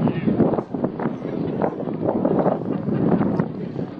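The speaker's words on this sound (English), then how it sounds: "It's very windy day there today" Wind on a very windy day roars through a livestream played back on a laptop, a steady broadband rush with gusty swells lasting the whole stretch, while voices talk faintly underneath.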